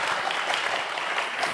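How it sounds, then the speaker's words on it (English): Crowd applause at a community football event in Boynton Beach honoring Chief Sims, a former Delray police chief, dense continuous clapping, close and full, filling the whole short stretch without pauses or talk. "Y'all give a round of applause for Chief Sims"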